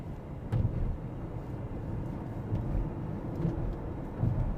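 A Mercedes EQB electric car with over 50,000 km driven rolls over road manhole covers, giving a low continuous road rumble with a few dull thumps from the suspension, heard from inside the cabin.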